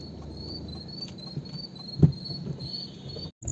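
Crickets chirp steadily at night in the dense Jim Corbett forest, a continuous high trilling that sits fairly faint over quiet ambience, broken by one soft thump and a brief dropout near the end.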